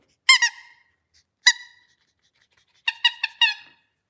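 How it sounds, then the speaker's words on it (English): A squeaky dog toy is squeezed in short bursts: one double squeak, then a single one, then a quick run of four sharp, bright squeaks. The sound is close and clear, with silence between the bursts. "I'm gonna get the squeaker and see if she'll get it."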